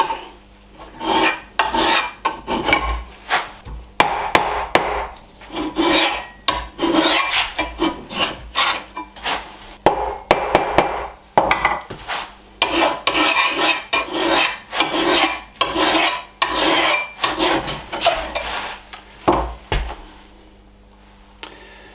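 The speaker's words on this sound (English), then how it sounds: "Now I will use the file a bit" A hand file rasps against the steel edge of an axe head in steady back-and-forth strokes, close and loud, with brief pauses between runs of strokes.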